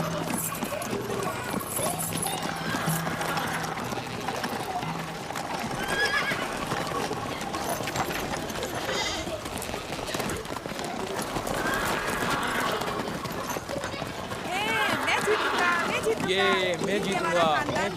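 A horse gallops with rapid, steady clip-clop hoofbeats and whinnies loudly several times in a dramatic scene, with a crowd and voices talking over the noise throughout.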